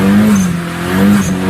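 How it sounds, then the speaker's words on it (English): A Kawasaki Ninja 1600 Hayabusa twin-turbo motorcycle engine revs loudly close by, its deep, steady tone dipping slightly midway before rising again. "riding my new Ninja 1600 Hayabusa twin turbo to work on the race car."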